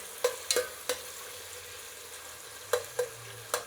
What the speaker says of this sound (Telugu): ఇలా బాగా కలుపుతూ ఒక 4-5 సార్లు వేయించుకున్నట్లయితే మనకు బ్రౌన్గా వస్తుందండి ఎర్రగడ్డలు అనేది